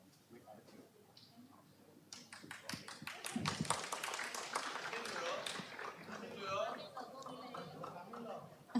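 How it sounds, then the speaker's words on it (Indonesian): An audience claps after a question at a public Q&A session. Dense applause swells in after a quieter start and holds steady for several seconds, close and loud, with voices mixed underneath. "Tepuk tangan dulu dong teman-teman atas pertanyaannya"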